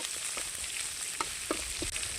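Onions frying in a pan for ghee rice with green masala, a steady close sizzle with a few brief stirring scrapes and clicks, no voices.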